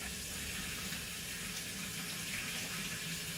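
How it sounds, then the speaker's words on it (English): Tap water runs steadily into a sink, a constant close splashing and gushing stream with no pauses. "You just fill the sink up, doesn't matter whether it's hot water or cold water"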